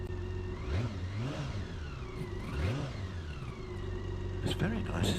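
A BMW K1600 B motorcycle engine revs up in several rising and falling sweeps, close by, over a steady idle, with faint traffic-like noise around it.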